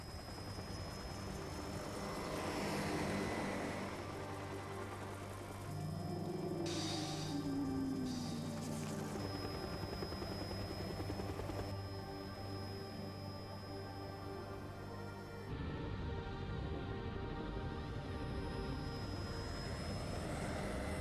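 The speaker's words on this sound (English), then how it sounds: "We have another cutscene of the helicopters and fighter jets getting destroyed by the protective sphere." Helicopters and fighter jets in the finale cutscene of the Parasite Eve video game, a steady aircraft engine drone with a sweeping flyby swell midway, layered over game music and effects, loud and continuous.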